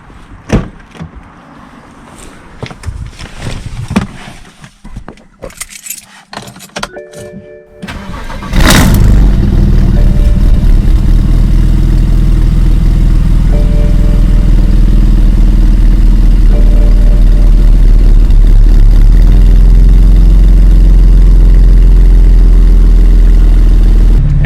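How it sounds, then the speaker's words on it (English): A BMW fitted with VRSF downpipes is cold-started close to the muffler: a few seconds of clicks and handling, then the engine catches at about nine seconds and settles into a loud, steady exhaust idle that runs to the end. "I wanted to do a cold start for you guys that you can hear how it sounds."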